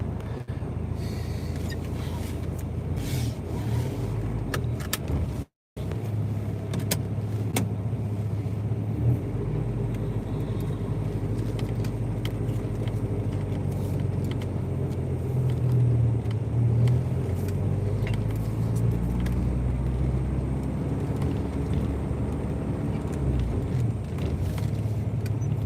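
A Porsche 944 engine idles with a steady low rumble for the whole stretch, close and continuous apart from one brief dropout, with no voices over it.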